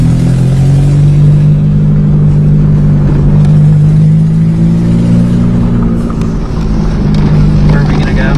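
A 5-speed manual car drives in second gear, its engine drone steady and loud from inside the cabin with a slight pitch rise, while people talk over it.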